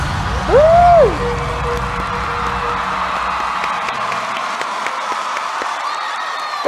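Audience applause and cheering at a World of Dance 2019 finale, a steady crowd roar with clapping and a loud whoop near the start, heard alone and sustained throughout.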